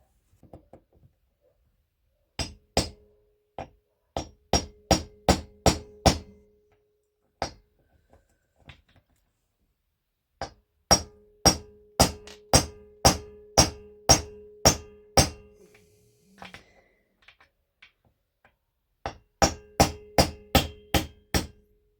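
Hammer blows driving a crankshaft seal into place on a Stihl 028WB chainsaw, heard as three bursts of sharp metallic taps, quick and even in rhythm, close and loud with quiet gaps between.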